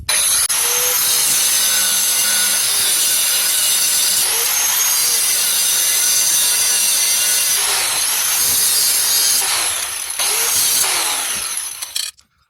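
A saw or cutting tool bites at an angle through a front wheel bearing part in a continuous loud, harsh grinding rasp that holds steady for several seconds before cutting off abruptly.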